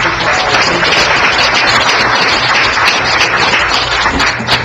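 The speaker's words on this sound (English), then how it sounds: "round of applause for Timmy Rich" A council meeting audience claps together in a steady, dense burst of applause that fills the room for several seconds, loud and close, with no speech over it.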